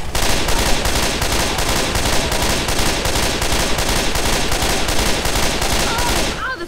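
Sustained rapid gunfire from Left 4 Dead 2 during a fight against a Tank, loud, dense and continuous for several seconds before cutting off abruptly.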